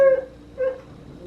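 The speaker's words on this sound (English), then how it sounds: "Don't mind my dog barking out there." A dog barks outdoors at home: two short yelps with a whimpering tone, the first right at the start and the second about half a second later, slightly muffled and at moderate distance.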